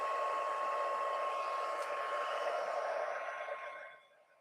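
A heat tool set to its second setting blows hot air over card-making material. The steady whoosh stays fairly quiet and even, then fades away over the last second.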